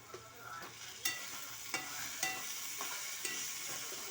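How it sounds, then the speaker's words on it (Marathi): A spoon stirs cooked vegetable curry in a pan, adding a little chilli powder, with soft frying sizzle underneath and a crisp scrape about every half second to second, close and steady. "आपण फक्त हलवून घ्यायची मस्त अशी हलवून घ्यायची"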